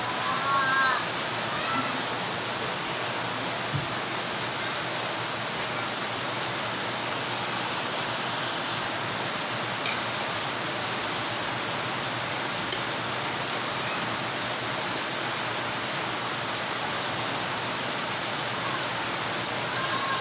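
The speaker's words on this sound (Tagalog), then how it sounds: "Malakas yung ulan dito sa amin." A steady, dense hiss of rain falls continuously for the whole stretch, even and unbroken, with no talking over it.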